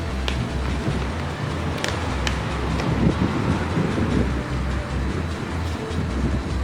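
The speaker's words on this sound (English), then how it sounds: "Also, it's really windy, so that's why I can't really get much footage out here" Strong outdoor wind buffets the microphone, producing heavy low rumbling gusts that thump and surge continuously, with faint background hiss and no speech.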